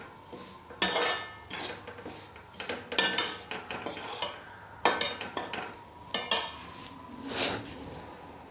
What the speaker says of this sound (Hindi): ये हमने 2 चम्मच के बराबर तेल और डाल दिया है इसमें और इसको भून लेंगे